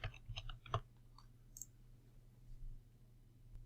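Computer mouse clicks while navigating a cloud services dashboard: a quick cluster of sharp, close clicks at the start, then quiet with a single faint click near the end.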